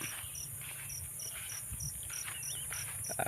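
Insects and frogs calling at night in Thai rice fields, a steady high chirping pulse repeating evenly with a faint low chorus beneath, no talking.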